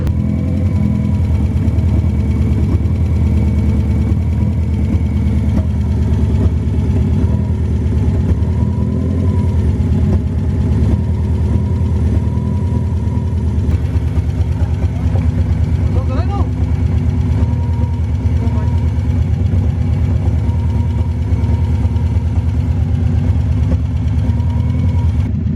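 A Subaru engine fitted with only a downpipe for exhaust runs loud and steady, a close, droning rumble lasting throughout while people talk over it.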